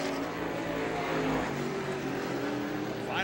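Pro stock race cars lapping Star Speedway in a 1993 Winston Racing Series qualifying heat, a dense continuous roar of several engines with a rising whine near the end.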